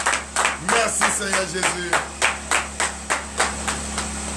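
Church congregation at a morning prayer service in Benin claps in a steady, loud rhythm of sharp, evenly spaced beats, with a voice speaking briefly over the opening claps.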